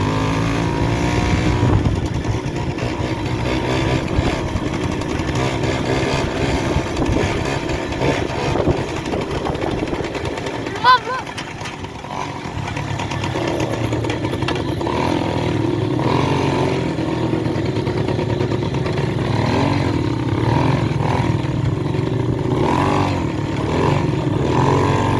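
ATV engine running steadily outdoors in a field, a continuous rough drone that rises and falls slightly in revs, close and loud throughout, with a brief dip near the middle.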